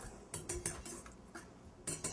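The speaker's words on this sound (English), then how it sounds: "we're just going to whisk all this together so that way we don't have any clumps" Whisking dry Mexican chocolate cookie ingredients with baking soda in a bowl, quick clinking metal strokes in short bursts against the bowl, close and fairly loud, no talk.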